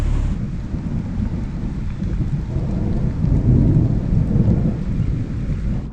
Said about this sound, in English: this little thunderstorm just kind of built up, and it's the only ones in West Tennessee right on us